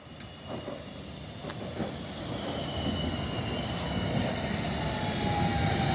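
A train pulls into a station, its steady rumble and rail noise building louder over several seconds, with faint squeals and clanks on top and no talking.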